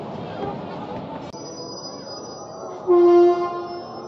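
Train noise at a busy station, with a loud horn blast and high whining tones above a steady rumble and crowd murmur.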